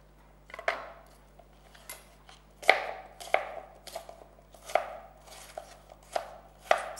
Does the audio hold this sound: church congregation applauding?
no